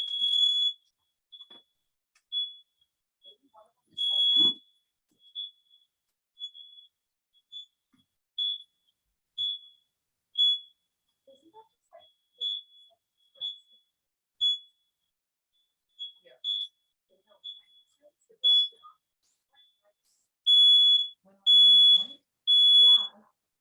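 Smoke alarm chirping: repeated high-pitched electronic beeps in irregular short bursts, with some longer, louder tones near the end and faint talk in between.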